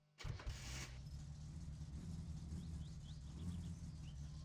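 An old junker car's engine in My Summer Car cranks and catches quickly, then settles into a steady, rumbling idle, close and clear with no talk.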